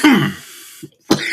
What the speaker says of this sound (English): A lot of me coughing and trying to start.